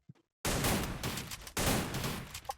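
Rapid video game gunfire blasts out in two long, dense bursts of automatic shots, loud and close, with a brief gap between them and a few isolated pops at the start.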